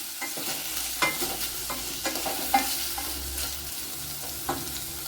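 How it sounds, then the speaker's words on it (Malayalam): Beetroot sautéing in a pan, a steady soft sizzle with repeated scraping stirs of a spoon at irregular intervals, close up and without talking. "നല്ലപോലെ ഒന്ന് വഴറ്റിയെടുക്കാം."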